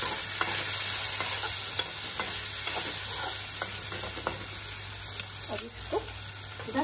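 Potato sabzi with turmeric powder and salt is stirred briskly in a hot pan, giving a continuous close sizzle broken by repeated scraping clicks of the spoon against the pan.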